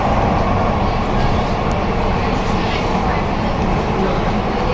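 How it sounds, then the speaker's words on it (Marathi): Loud, steady rumble and roar of an underground Mumbai metro train running between Dadar and Chhatrapati Shivaji Maharaj Terminus, filling the carriage with continuous noise throughout. "आपण आता इथं मेट्रोने प्रवास करतोय"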